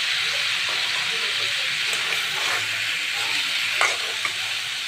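Sliced beans stir-frying in a pan with potatoes and carrots, an even, close sizzle with intermittent stirring clinks and scrapes running without pause.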